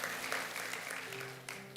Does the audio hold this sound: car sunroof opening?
no